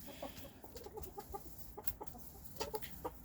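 Backyard flock of about twenty hens clucking in short, scattered bursts, close by, with a faint rooster-like call among them and no talk.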